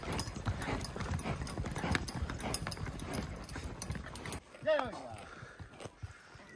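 Steady clip-clop of horse hooves walking, with a voice talking over the rhythmic steps, then a brief pause and a few more faint steps.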